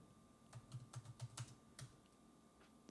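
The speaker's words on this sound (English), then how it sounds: "So I'm just going to type in" Fingers tap a computer keyboard in a quick burst of about eight light keystrokes, then one or two more, close and soft in a quiet room while a date is entered into an Excel spreadsheet.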